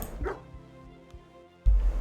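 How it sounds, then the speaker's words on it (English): A dog beside the merchant in the farming survivor game Froggy Farming Survivors lets out a couple of brief barks and yips over game music, with a louder thump near the end. "Here at the merchant, once again we have the dog."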